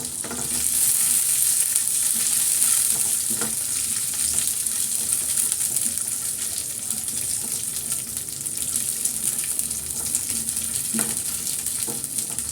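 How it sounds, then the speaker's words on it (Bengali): Ingredients for malai zarda fry in a pan with a loud, steady sizzle, broken now and then by soft clicks and scrapes of stirring. "সামান্য একটু ভেজে নেব আমি"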